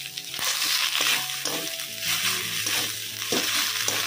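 Garlic paste hits a pan of fried green chilli and ginger paste for a paneer potato dish, with a loud, steady, close sizzle broken by scraping stirs throughout.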